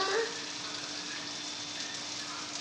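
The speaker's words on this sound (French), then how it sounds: "On va laisser mijoter pendant environ 1 minute." Onions and tomato paste simmer in a pan, giving a steady, soft sizzle and crackle like fine rain that runs evenly through the whole stretch, close and fairly quiet, with no talking.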